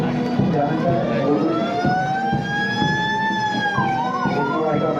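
A 108 ambulance's wailing siren rises and falls loudly as the vehicle passes the stage in a Republic Day parade, with the crowd and an engine rumbling underneath.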